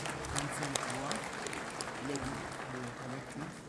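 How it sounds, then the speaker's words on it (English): A general assembly of the Confederation of African Football claps for the scrutineers and auditors, a faint, steady wash of applause from a large hall with voices murmuring underneath. "Can we clap hands for the scrutineers and PricewaterhouseCoopers?"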